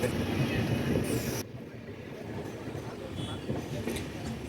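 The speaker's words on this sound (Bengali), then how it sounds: "ধানবাদ থেকে আমাদের ট্রেন ছেড়ে দিল" A train pulls out of Dhanbad station on a Kolkata to Mathura journey, its steady low rumble and rattle heard from inside a carriage, briefly louder at first then settling into a continuous drone.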